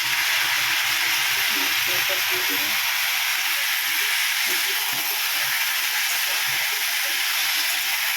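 Vegetables sizzle in a pan with turmeric, cumin and coriander powder, giving a loud, continuous broadband frying hiss throughout, with faint clatter and low sounds beneath it.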